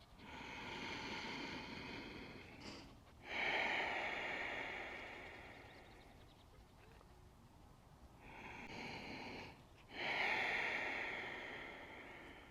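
Slow, deliberate breathing during an all-levels yoga flow: two rounds of long airy inhales and exhales, close to the microphone, each breath swelling and fading over several seconds.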